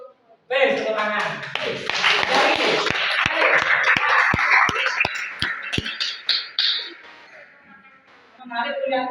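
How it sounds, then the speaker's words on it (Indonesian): A class of students claps together during a morning lesson in a school classroom, with a steady run of sharp, evenly spaced group claps in rhythm over several seconds, amid lively voices talking and cheering. "Wes, tepuk tangan."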